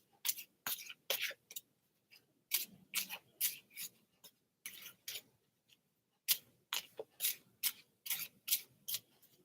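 Deck of playing cards being shuffled close up, repeated short crisp riffling bursts in an irregular rhythm with brief pauses between, alone without talk.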